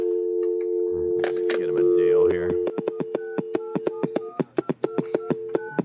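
Touch-tone telephone dialing during a radio show prank call: a brief stretch of steady tone and murmuring, then a rapid, evenly spaced run of short beeps, loud and close, ending in a few quicker irregular presses.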